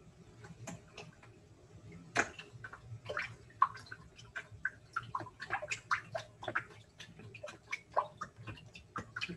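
Short waves stirred by hand in a water tank holding a slanted pan and a small sinking boat, heard as close, irregular splashes and drips that come quickly one after another, with no voices.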